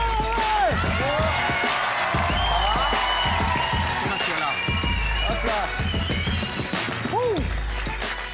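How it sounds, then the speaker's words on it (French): TV studio audience applauding as guest Christophe Beaugrand arrives, a dense continuous clatter of clapping with whoops, while a host's voice and music carry on over it. "alors on l'applaudit très fort ce soir."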